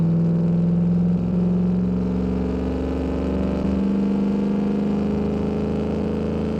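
A car engine in the Automation car-building game, a heavy land-yacht build held at full throttle, a loud steady droning rev with a constant buzzing hum and no talking.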